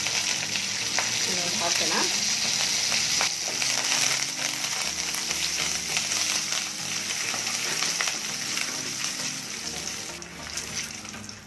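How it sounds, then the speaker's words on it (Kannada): Mustard seeds, cumin, curry leaves and red chillies sizzle in hot oil for a tomato chutney, a loud, continuous close-up frying hiss with faint crackles and stirring, and a brief spoken word near the start. "ಎಣ್ಣೆ ಕಾದಿದೆ, ಅದಕ್ಕೆ ಸ್ವಲ್ಪ ಸಾಸಿವೆ ಮತ್ತು ಸ್ವಲ್ಪ ಜೀರಿಗೆನ ಹಾಕ್ಕೊಂಡಿದ್ದೀನಿ"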